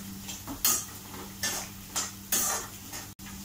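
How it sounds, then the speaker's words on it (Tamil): Orange peel pachadi sautéing in oil in a pan, with four distinct scraping stirs of a utensil against the metal over a soft sizzle, fairly quiet and close. "கொஞ்சம் இது நல்லா அந்த எண்ணெயில் வந்து வதங்கி சுருளட்டும்."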